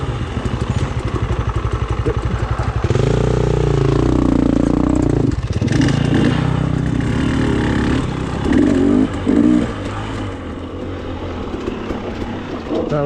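Another rider passes on a motorcycle on the Black Diamond Enduro Trail in Colorado, the engine swelling loudly up close with revving surges, then fading to a steady idle nearby.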